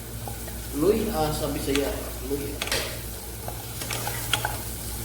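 Chicken wings adobo being stirred in a frying pan, a steady close sizzle with occasional scraping and clinking of the utensil, while someone talks over it.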